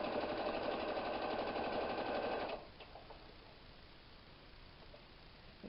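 A sewing machine stitches a fabric knitting project holder, with a fast, even mechanical whirr close by that stops abruptly halfway through, leaving faint room noise.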